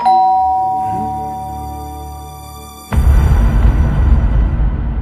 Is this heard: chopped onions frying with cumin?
no